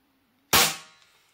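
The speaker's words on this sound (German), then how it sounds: "Und wenn ich jetzt schieße quasi" A Feinwerkbau 65 air pistol fires one shot after a quiet pause, a sharp, loud crack that rings out and fades over roughly half a second.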